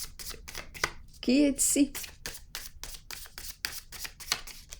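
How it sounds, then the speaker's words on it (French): Tarot cards shuffled by hand for a reading, a rapid run of soft riffling flicks and taps, close and fairly quiet, with a voice speaking briefly over it. "Aujourd'hui, je vous offre un nouveau tirage de tarot surprise."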